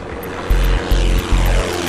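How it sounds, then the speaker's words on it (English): Propeller airplane engine droning as it takes off, a steady close rumble with three strong low surges pulsing at regular intervals, no voices. "Finally, the plane took off."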